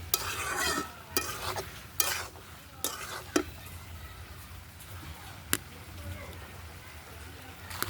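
Shrimp with papaya and taro sautés in a pan, with a soft low sizzle under repeated sharp spatula clacks and scrapes against the metal, close and fairly quiet.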